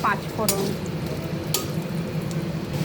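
Panch phoron spices fry in a little oil in a wok, with a soft steady sizzle and a few metal clinks and scrapes of stirring nearby.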